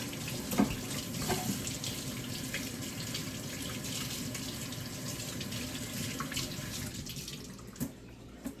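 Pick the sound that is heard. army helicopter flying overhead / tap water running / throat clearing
tap water running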